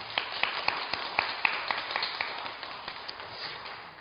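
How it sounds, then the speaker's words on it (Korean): A church congregation claps through a Sunday service, a quick, even patter of many hands that is moderately loud at first and slowly fades, with no voices over it. "축하의 박수를 먼저 드립니다"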